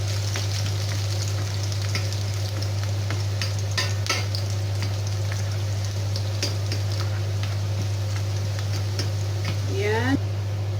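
Broad beans with ham browning in a frying pan, a steady close sizzle and crackle with occasional stirring clicks and a brief utensil scrape near the end, continuous throughout.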